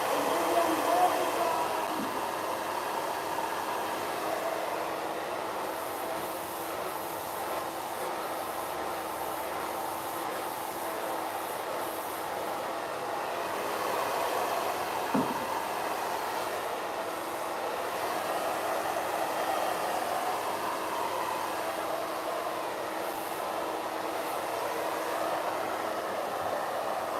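A hair dryer blows steadily on short hair for the whole stretch, a loud, even rushing whoosh with small swells, and a voice speaks now and then beneath it.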